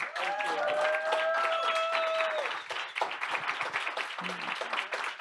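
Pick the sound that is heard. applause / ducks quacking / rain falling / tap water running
applause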